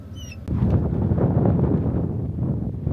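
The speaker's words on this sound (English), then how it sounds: "Yeah, it's windy as shit." Strong gusting wind buffets the microphone in a loud, continuous low roar at an outdoor 1,000-yard rifle range, after a brief quieter moment at the start.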